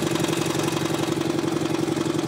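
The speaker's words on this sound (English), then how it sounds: "engine, the 18 horsepower" An 18 hp Briggs engine that breaks up in its power band and does not accelerate smoothly runs with a loud, close, continuous, steady drone and an even, rapid pulsing throughout, with no talk.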